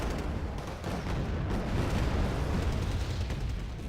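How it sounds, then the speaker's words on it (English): Heavy artillery fire in the war strategy game Wargame Red Dragon rolls on as a dense, continuous barrage of deep booms and rumbling impacts, loud and unbroken throughout. "heavy artillery trying to dislodge"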